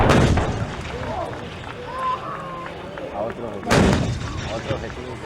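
Howitzer artillery fire at a Fort Sill firepower demonstration, heard as a heavy booming report at the start and another sharp blast later, with outdoor crowd noise and a voice talking throughout.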